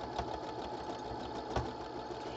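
A sewing machine runs a line of stitching down the middle of fabric, a quiet, steady whirring hum with faint rhythmic ticks from the needle.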